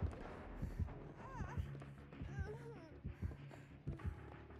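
Killer's heartbeat warning in the horror video game Dead by Daylight: low rhythmic thumps pulse beneath a droning hum and scattered in-game noises, with warbling tones drifting over the top.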